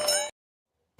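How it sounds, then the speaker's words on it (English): A single bright ding of a bell rung once, close and clear with a quick shimmering decay that stops abruptly, followed by near silence. "Ring the bell."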